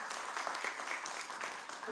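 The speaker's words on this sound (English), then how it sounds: "Let's give a round of applause one more time." A hackathon audience applauds after a finalist presentation, steady moderate clapping with a few voices mixed in, heard from a little distance at low volume.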